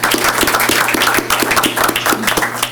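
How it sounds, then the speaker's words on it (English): Audience applause at a school board meeting, a steady burst of many hands clapping fairly close, lasting the whole stretch without talk. "Let's give him a round of applause, everyone."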